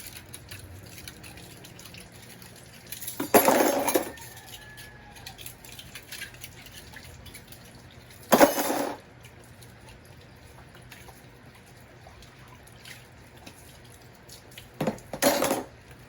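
Three short bursts of splashing water from rinsing large pots and pans, each a second or so long, separated by quiet stretches with a faint background hum.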